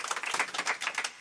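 An audience claps at a live concert show: a short burst of lively, uneven handclapping, fairly close and loud.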